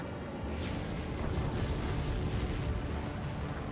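A supply ship blows up in the jet combat game Ace Combat 7, giving a deep, rumbling explosion with crackling bursts that roll on steadily and fairly quietly throughout.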